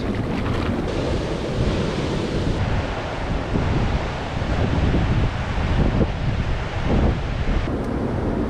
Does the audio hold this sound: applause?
no